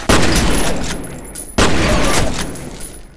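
Gunfire in the shooter game F.E.A.R.: two loud, dense bursts of rapid shots, each lasting about a second and a half, with booming impacts and no speech over them.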